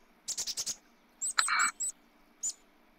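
A bird in the Fishing Planet video game gives a quick run of five sharp chirps, then a buzzy trill and a couple of isolated notes, clear and close over a quiet background.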